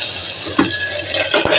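Chopped onion sizzles in a small amount of hot oil while being stirred, a steady frying hiss broken by a couple of scraping stirs.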